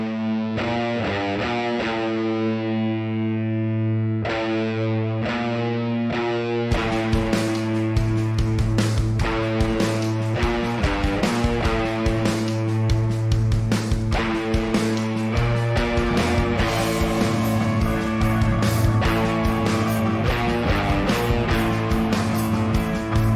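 A distorted electric guitar run through a Quad Cortex plays an instrumental, starting with sustained chords before launching into dense, driving rhythmic strumming, loud and continuous with no talking.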